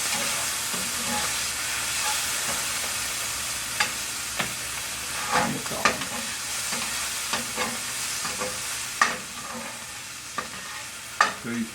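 Onions fry in a pan with a steady, close hiss, broken by scattered sharp scrapes and clicks from stirring; no one speaks.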